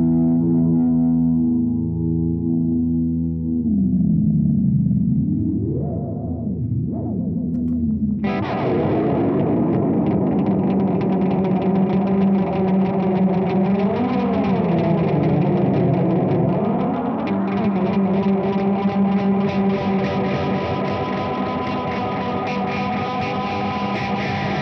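Electric guitar drenched in analog delay and reverb, with repeating echoes and pitch-warping swells, then a dense, distorted shoegaze-style wash of sound that continues steadily.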